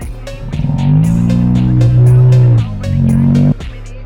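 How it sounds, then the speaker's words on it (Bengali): A motorcycle pops a wheelie outdoors, its engine revving hard in a loud, close, rising roar that holds, dips briefly, surges again, then cuts off abruptly, with a few sharp clicks throughout. "তো দেখলে ভাই কি হুইলি মারলো একটা।"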